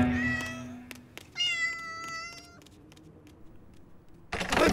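An animated cartoon cat meows twice, a long plaintive call followed by a shorter bright one, close and clear with brief clicks between and a scuffle at the end.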